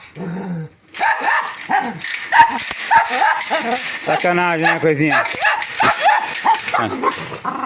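Small female dog barking, yipping and whimpering close by at home, agitated bursts mixed with whiny cries while a person talks over it.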